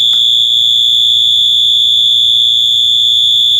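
A 12V alarm wired through a timed relay sounds continuously, a loud steady electronic tone held without a break from start to finish.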